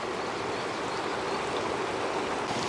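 Continuous rushing of water leaking through gaps at the joints between blocks of a water intake, a steady, moderately quiet gurgling flow with no voices.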